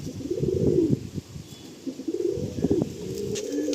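Pigeons for sale at Sonarpur coo close by in repeated throaty, rolling bursts, with two main phrases separated by a short pause.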